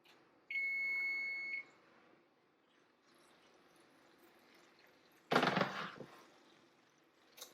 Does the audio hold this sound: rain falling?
no